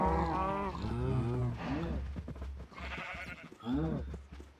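Farm animals in Minecraft, within an FTB Infinity Evolved Skyblock world, bleat and cry in a string of close, harmonic calls, with short pauses between them.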